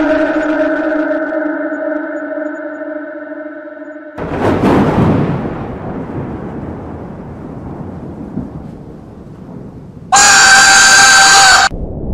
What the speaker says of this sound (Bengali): আকাশে মেঘের গর্জন